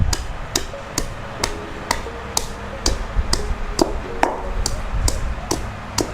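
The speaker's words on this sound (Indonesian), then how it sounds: "kemudian kita tumbuk ya sampai halus" Garlic and aloe pounded in a mortar, sharp regular thuds about twice a second, close and distinct over a low background rumble, with no speech.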